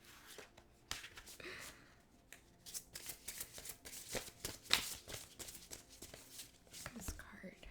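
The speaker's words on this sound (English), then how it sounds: "This deck is so loud when I shuffle." A deck of tarot-style cards being shuffled during a card reading, producing loud, repeated riffling and flicking bursts close by, with soft whispery sounds throughout.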